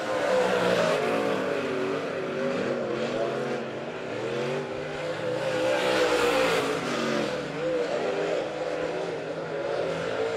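B-Mod and Midwest Modified dirt track race cars at Monett Motor Speedway roaring through turns 3 and 4, engines revving and rising and falling in pitch as they pass, with the loud surge sustained over the whole stretch.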